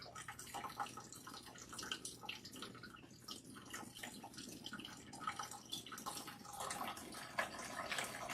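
Running water rinses natural hair at a salon sink, a soft, steady splashing and trickling that stays faint and continuous throughout, with no talk over it.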